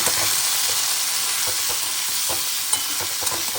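Chopped tomato and half a capsicum sizzle in a pan with potatoes for a creamy curd mushroom dish; a steady, loud fry hiss runs throughout with soft scattered clicks of stirring and no voices.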